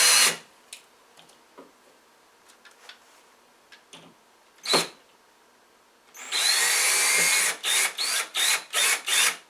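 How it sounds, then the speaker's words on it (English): A power drill drives drywall screws through drywall into a backer plate behind a hole being patched: scattered ticks and a short whir, then a long loud burst of whirring followed by several quick stop-start pulses, close up with no talking. "I'm going to connect it with 2 drywall screws"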